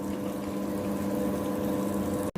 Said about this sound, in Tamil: இந்த அரிசி இட்லிக்கு ஓடிக்கிட்டு இருக்கு.